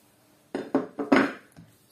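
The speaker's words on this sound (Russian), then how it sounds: "Все хорошенечко размешаем." A spoon stirs warm milk, water, eggs, sugar and salt in a bowl for yeast dough, making five quick, faint clinks against the dish at an uneven rhythm.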